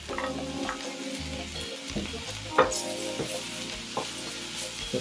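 Chili, tamarind leaf and curry leaf sizzle in hot oil with mustard seeds while being stirred, a steady close frying hiss broken by scraping stir strokes, with no talk.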